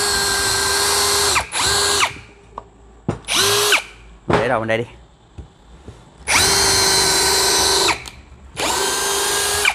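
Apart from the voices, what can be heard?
DEKTON cordless drill drilling into wood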